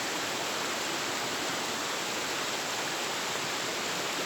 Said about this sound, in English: I don't know the name of this waterfall.